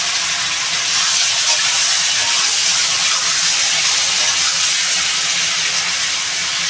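Potato and papaya pieces sizzle in hot oil, a loud, dense, steady hiss that holds evenly from start to finish without talk.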